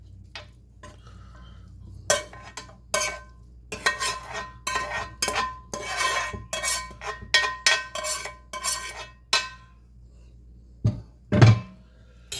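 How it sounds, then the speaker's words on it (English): Drained meat and vegetables go into a pot of noodles with butter, heard as irregular close scraping, clinking and stirring knocks of a utensil against cookware, with a short louder thump near the end. "I'm going to add them to our noodles."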